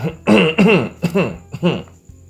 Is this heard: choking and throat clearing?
yes